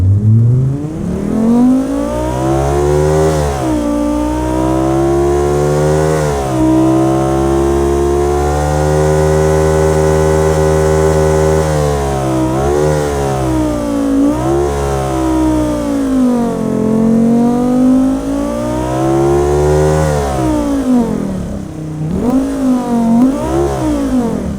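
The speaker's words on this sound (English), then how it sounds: "We owe this beautiful old engine to fire it up." An old engine roars loudly, its pitch climbing and falling through repeated revs between steadier running, close by with no talking.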